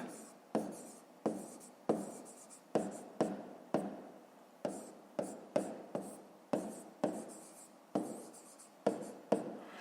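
A pen or pencil scratches out a math solution in short, regular strokes, each one a quick crisp scrape that fades, close and quiet, with no voices.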